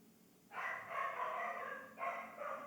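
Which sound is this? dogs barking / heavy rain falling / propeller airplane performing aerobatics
dogs barking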